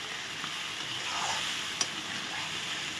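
Spice paste for a bhola fish curry sizzles steadily in a hot pan, a continuous close frying hiss with faint stirring scrapes and one sharp clink near the end.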